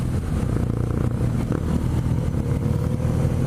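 BMW R nineT Pure motorcycle from 2017 with a steady, close engine drone that stays loud and even throughout, with no one speaking.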